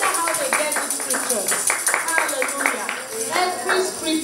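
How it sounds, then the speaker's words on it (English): A church congregation at a Sunday service claps for children in a steady, brisk patter of many hands, loud and close, with voices mixed in. "A big round of applause for them."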